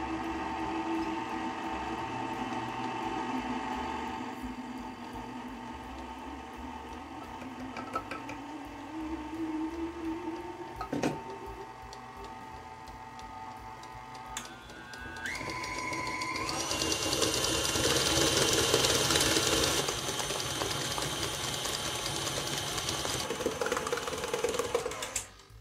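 An electric mixer beats chocolate strawberry cake batter with buttermilk, a steady whirring drone that shifts pitch midway and grows louder and brighter toward the end, close and without talk.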